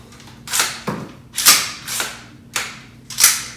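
Carbine dry fire practice with a magazine reload: six sharp, close metallic clacks and snaps of handling and magazine changes, spaced roughly half a second apart, with no voices.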